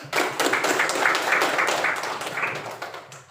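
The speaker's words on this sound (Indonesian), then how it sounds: "Oke, tepuk tangan dulu." Pupils clap together in a classroom, a dense burst of hand claps close by that fades toward the end, with no talking over it.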